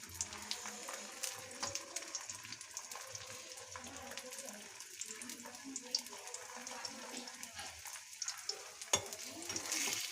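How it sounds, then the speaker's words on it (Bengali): Potato paratha frying in oil in a wok, a faint steady crackle and hiss with small pops, quiet and close, without speech. "দেখুন আমরা পরোটাটা তেলে দিয়ে দিলাম"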